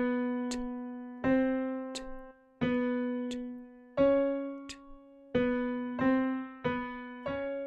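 Piano plays the middle measures of a back-and-forth exercise as a steady series of struck notes alternating between two pitches, each ringing and decaying before the next, with no speech.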